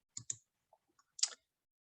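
Keyboard typing while entering a field name in a NetSuite saved search: a few quiet, scattered clicks in two short clusters with gaps between, close and faint, no voice.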